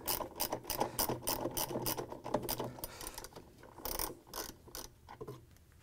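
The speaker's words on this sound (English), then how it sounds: "Use a ratchet with 1/2" socket and extension to loosen and remove the center bolt that holds the agitator in place." A ratchet with a 1/2-inch socket and extension clicks in quick repeated bursts, loosening the agitator center bolt counterclockwise on a Whirlpool, KitchenAid or Maytag washing machine, close and loud with no voices.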